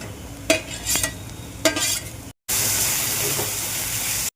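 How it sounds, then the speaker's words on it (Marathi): Green ground paste being stirred into frying onions in a pan, a few scraping stirs over a low sizzle, then a sudden loud, steady hiss of frying that fills the rest. "आता हिरवं वाटण कांद्यामध्ये 2 मिनिटं परतून घेऊ आपण."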